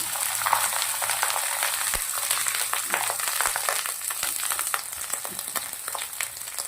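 Cashews and rice fry in hot oil with cumin seeds, giving a steady, close sizzle with scattered small pops and the occasional scrape of stirring throughout.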